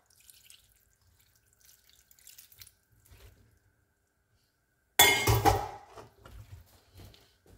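A short burst of water splashing and pouring into a metal cooking pot, close and loud, preceded by faint clinks and taps, while making aloo gobi potato and cauliflower curry.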